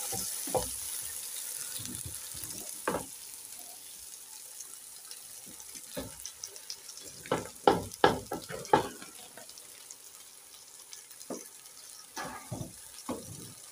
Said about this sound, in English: Let me mix so that my onion will not continue burning.